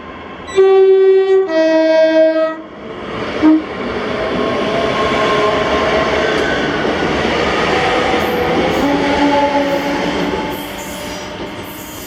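A ScotRail class 385 train sounds its two-tone horn at Paisley Gilmour Street station, then rumbles steadily along the platform with faint wheel squeal as it passes, loud and close with no talking.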